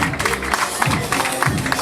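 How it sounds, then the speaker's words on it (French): An audience claps for students at a school group's annual cultural contest in Mohammedia, a dense, steady patter of many hands filling the hall for under two seconds. "encore une fois, vous les applaudissez"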